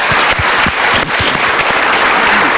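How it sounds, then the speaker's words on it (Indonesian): Loud audience applause at a motivational seminar in Indonesia, dense clapping filling the whole stretch with a brief dip near the middle. "kita berikan tepuk tangan"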